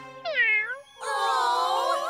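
A cartoon sand cat meows twice in a children's animated show, first a short rising-falling mew and then a longer, fuller cry, close and clear with a light musical backing.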